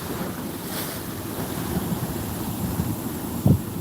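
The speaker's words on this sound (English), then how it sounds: "look at the waves" Ocean waves crash at a California beach in heavy surf, a steady broadband roar with wind buffeting the microphone and a brief thump near the end.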